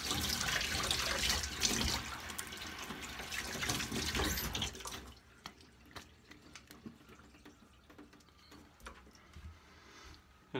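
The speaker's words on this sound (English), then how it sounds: "I'm gonna do a quick rinse." A hot tap runs hard into a sink for a razor rinse, a loud broad rush for about five seconds that then cuts off, leaving faint drips and small clatters.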